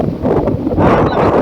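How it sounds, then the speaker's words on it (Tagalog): Strong wind buffets the microphone at a seaside fishing spot with rough waves, a steady broadband roar that surges louder partway through, with no talking. "Medyo lakas ang hangin."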